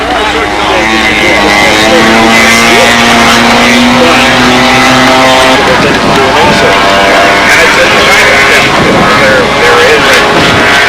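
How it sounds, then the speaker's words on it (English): A big-bore two-stroke fuel engine on an RC scale model aircraft runs loud and steady with a high buzzing drone, rising and falling in pitch as the plane passes at a scale flying contest, with talk over it. "Fuel 2-cycle engine on board"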